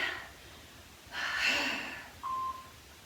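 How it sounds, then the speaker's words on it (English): A loud, forceful exhale blown out close to the microphone during a fitness workout, followed by a brief electronic beep tone. "You hear me breathing. I'm trying to make it loud."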